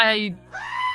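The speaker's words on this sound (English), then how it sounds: "oh my gosh, that's a goat." A goat gives two close, loud, wavering bleats, one quickly following the other.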